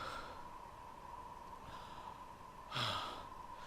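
A game character in Cry of Fear pants and breathes heavily in a soft, continuous wheeze, then gives one louder sharp breath near the end. The sound is faint and close, over a low steady hum.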